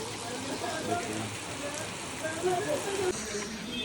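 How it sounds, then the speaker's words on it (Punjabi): Rain pours down steadily in a constant hiss and patter on surfaces, with a few faint voices underneath. "ਦੇਖੋ ਜੀ ਕਿੰਨਾ ਤੇਜ਼ ਮੀਂਹ ਲੱਗਾ"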